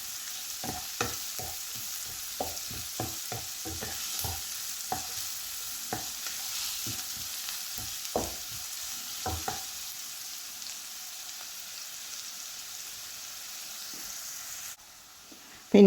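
Garlic and chopped greens for a Kerala thoran sauté in a pan, a soft continuous sizzle broken by repeated clinks and scrapes of stirring in an irregular rhythm, quieting toward the end.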